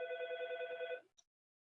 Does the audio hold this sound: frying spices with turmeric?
no